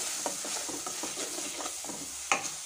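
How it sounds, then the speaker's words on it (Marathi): Chilli powder is stirred into curry masala in a pan for methi kofta curry, with soft repeated scraping strokes over a quiet, steady sizzle and no talking. "आता हे सर्व छान मिक्स करून घ्यायचं आहे"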